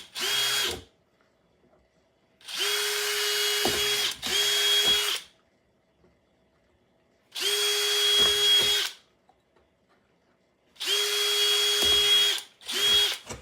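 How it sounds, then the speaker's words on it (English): A power drill whirs through a wooden sign drilling four holes in separate bursts of a second or two each, with quiet pauses between, close by and loud. "I'm going to drill these 4 holes"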